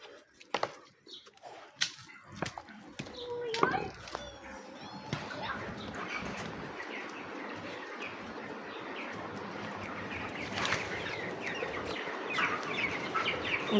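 Chickens at a small hobby farm cluck and chatter faintly, mixed with scattered sharp knocks early on and a steady background hiss, and a voice seems to murmur at times.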